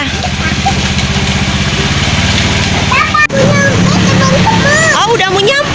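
A small motorcycle engine hums steadily while riding through town, a parent with a child aboard on the way to buy ice cream, the motor drone continuing under occasional talk and brief pitched chirps.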